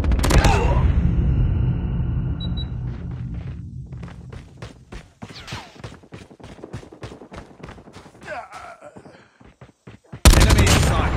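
Gunfire in a first-person shooter game: a loud opening blast, then a long stuttering string of rapid shots that thins toward the end before another sharp loud burst, with brief in-game voice callouts.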